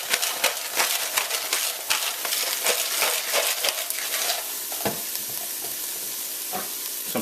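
Garlic sweats in a pan over low heat for a Caribbean chicken foot soup, giving a continuous soft sizzle broken by scraping stirs and light utensil taps, close and without talk.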